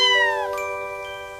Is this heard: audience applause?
no